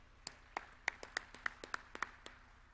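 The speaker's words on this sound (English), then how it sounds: "Let's clap for her." Sparse hand clapping from a small workshop audience, about a dozen distinct claps in a loose irregular rhythm, fairly faint and close with no voices over it.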